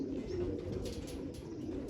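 A stray pigeon cooing, faint and low, with a soft continuous murmur and a few light background sounds.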